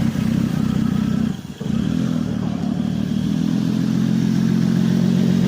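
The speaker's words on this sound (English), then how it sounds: "But she starts and runs just fine, folks." A 2004 Toyota Solara SLE engine runs at a steady idle just after a starter change, a close, even mechanical hum with a brief dip around the first second and a half before settling back to a constant drone.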